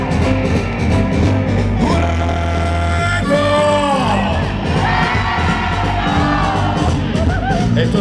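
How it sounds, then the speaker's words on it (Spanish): A loud concert crowd of mostly men yells, whoops and cheers continuously at a show in Porriño, a dense roar of shouting voices filling the whole stretch with a few higher cries rising above it. "desde aquí arriba nada más que escucho chillar a los tíos"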